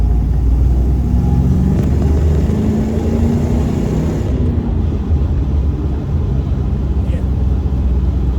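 An LS-swapped car with a six-speed transmission accelerating, its engine a steady loud rumble held throughout, with a continuous low drone and wind-like roar inside the cabin and no talk over it.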